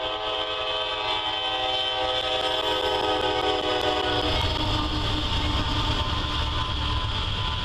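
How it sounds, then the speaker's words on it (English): A CSX freight train crossing a bridge over the Patapsco River, a steady loud rumble with a sustained horn blast and rolling wheel noise that grows heavier toward the end. "observe a CSX freight crossing the Patapsco into town"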